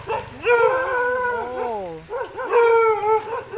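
A dog out in the rain howls close by in two long, wavering bursts, each drawn-out cry bending up and down in pitch, with a short gap between them.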